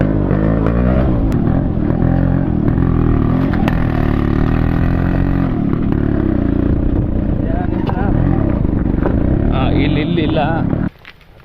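A Yamaha RX100 two-stroke motorcycle being ridden, its engine droning loud and steady close by with shifts in revs, then cutting off abruptly near the end; people talk over it.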